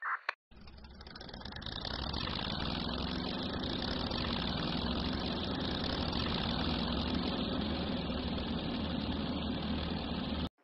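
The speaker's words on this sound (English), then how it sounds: "Shit, vehicle's coming out." Vehicle engine in the video game Ambush, a steady droning rumble that swells in over the first two seconds and holds loud and constant until an abrupt cutoff at the end.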